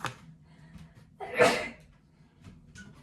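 One sharp sneeze bursts out in a quiet room, preceded by a short breath and followed by faint rustling.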